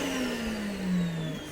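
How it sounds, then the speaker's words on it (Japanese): A vacuum cleaner runs alongside a Shapeoko 3 CNC router, a steady motor whine with a slowly falling pitch that swells briefly partway through, with no talking. "掃除機が使えるみたいだよ。"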